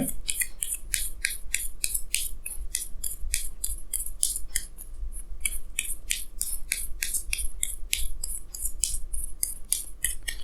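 Tarot cards are shuffled and handled close up, giving a dense run of quick papery snaps and flicks that continues steadily, with no voice heard.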